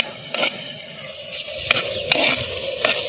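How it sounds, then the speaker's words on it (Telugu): Ginger garlic paste and turmeric stirred in a hot pan, a steady close sizzle broken by a few scraping strokes of the spoon against the metal, with no talking. "ఈ అల్లం వెల్లుల్లి పేస్ట్ కొంచెం నలిపోయేదాకా కలుపుకోవాలి"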